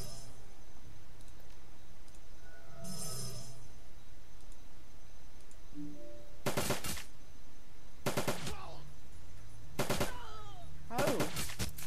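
Automated turrets in Shadowrun: Dragonfall fire four loud, sharp bursts of rapid gunfire in the second half, each burst about half a second long, over a steady game background with a faint earlier crackle.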